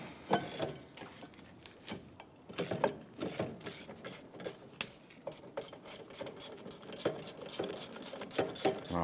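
Rapid ratcheting clicks come from a ratchet loosening the caliper bracket bolt on a Ford Five Hundred rear brake. The bursts are close and crisp, with short pauses and no talk over them.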